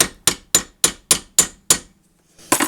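A screwdriver is hammered into a slot in a rear brake drum on a 2008 Nissan Sentra, giving seven sharp, evenly spaced metallic taps close up, a short pause, then a rougher clatter.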